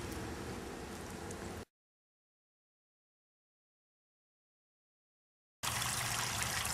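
Water trickles and splashes steadily nearby, cutting out into total silence for several seconds before the flowing sound returns louder.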